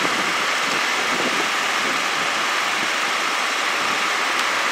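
A non-running five-speed Jaguar XJ-SC, smoking from leaky valve covers and exhaust, now idling with a steady, continuous engine drone and broad hiss, fairly loud and unbroken throughout.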